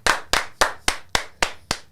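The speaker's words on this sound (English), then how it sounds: "Let's clap it up," Audience claps for a pro wrestler guest on a wrestling talk show: seven sharp, evenly spaced hand claps at a steady rhythm, close and fairly quiet, with no talking over them.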